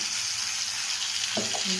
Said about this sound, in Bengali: টমেটোগুলো ভাজা হবে।